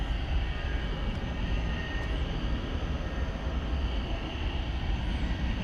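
An Airbus A300 airliner at DFW Airport at night, heard as a steady, broad distant jet engine roar that holds level for several seconds with no voices.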